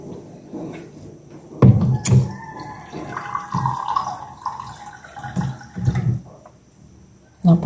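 Water poured into a container indoors, splashing and trickling at close range among a few knocks and clatters, while a person talks now and then.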